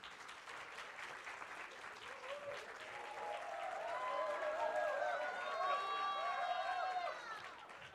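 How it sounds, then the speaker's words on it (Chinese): An audience at a live press conference for a Mars-themed stage production gives quiet, distant applause that swells midway, with some high, tonal cheering or whoops rising above the clapping before it fades. "掌声有请"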